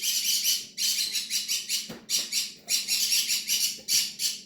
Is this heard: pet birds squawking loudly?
yes